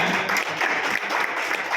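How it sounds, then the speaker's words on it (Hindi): Audience at a devotional song gathering gives a burst of steady clapping, moderately loud and continuous, with faint crowd murmur underneath. "आप जरा जोरदार ताली बजाएं।"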